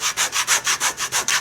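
A shoe sole rubbed against a sanding disc in about eight quick, even strokes, each a loud gritty scrape close up, with no talking.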